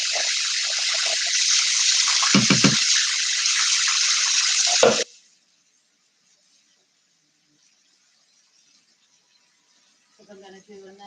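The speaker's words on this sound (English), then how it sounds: "So let me rinse this just a bit." A smoothie blender rinsed under a running tap gives a steady broadband gush of water for about five seconds with a couple of brief clunks, then near silence before faint sounds return at the end.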